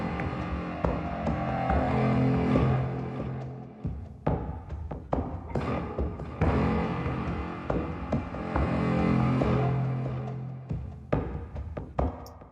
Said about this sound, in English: there's like a kind of a funky raunchy beat thing that sounds like this.